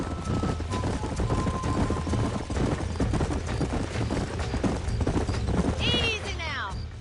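Horses clip-clop steadily through a Red Dead Redemption ranch scene, with a whinny rising near the end, over a continuous game soundscape with voices.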